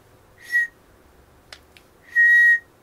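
Two clear whistles, a short one followed by a longer sustained one, blown into a talking toy to set it off, with faint clicks in between and no talking.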